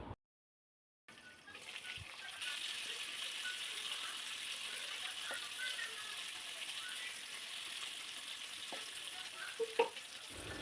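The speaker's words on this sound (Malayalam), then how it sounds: "ഇതേപോലെ തന്നെ നമുക്ക് ബാക്കിയുള്ള ചിക്കനും കൂടി ഫ്രൈ ചെയ്തെടുക്കാം." Pieces of chicken frying in oil in a covered pan, making a steady, even sizzle that runs throughout after a brief silence, with a few faint clinks over it.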